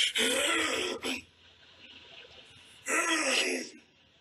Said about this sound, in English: clearing your throat is just disgusting